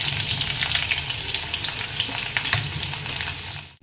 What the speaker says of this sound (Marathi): हे बघा, लसूण असा छानपैकी आपला तेलात ब्राऊन झालेला आहे।